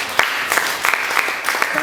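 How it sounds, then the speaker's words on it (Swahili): A congregation at a Sunday church service claps together, a brief, busy patter of hands mixed with voices. "Pige makofi kwa Yesu."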